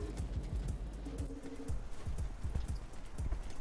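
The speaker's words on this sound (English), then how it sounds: "So there is a little bit of rain here, but it's not deadly." Steady rain falls in the video game Rain World: Downpour, a constant wash of patter with scattered low thumps beneath it, continuous and fairly loud without speech.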